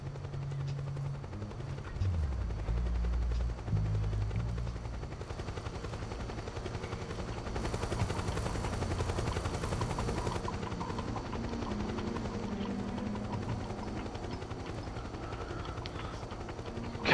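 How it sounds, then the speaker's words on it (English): A helicopter in Metal Gear Solid 4 gives a continuous rotor thrum, with game sounds and gunfire layered over it and a brief bright burst partway through. "I really should blow the helicopter up."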